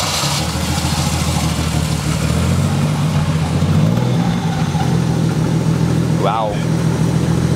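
A car engine idles steadily at a low rumble, then shifts pitch slightly as the car rolls forward on its own in neutral with no brakes, while people talk nearby and one exclaims.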